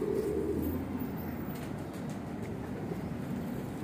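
Pigeons in a loft coo continuously in a low, blended drone with a rumbling background, moderately near and without any talk.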